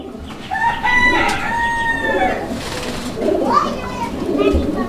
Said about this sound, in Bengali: এখানে চমৎকার আরো এক জোড়া কবুতর, এটা ডেনিশ কবুতর একটা জোড়া